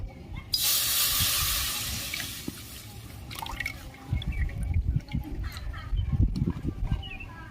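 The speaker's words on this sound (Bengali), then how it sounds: "ঘিয়ের মধ্যে দুধটা দিয়ে দেবো" Milk is poured into hot ghee in a pan over a stove. A loud rushing hiss of liquid comes first and then eases into bubbling, sputtering crackles that continue close by.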